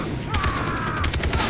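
Bursts of rapid gunfire sound in Far Cry 3 co-op play, loud and close with repeated shots over a short stretch.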